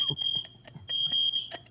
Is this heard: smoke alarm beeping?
yes